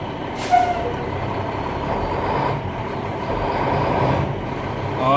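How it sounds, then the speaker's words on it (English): A Class B truck, shifted into drive, revs hard against its brakes during a pre-trip inspection in Alabama, a sustained loud engine roar broken near the start by a sharp air-brake hiss. "drive and pull against the max accelerator and see where the truck moves, and it should move"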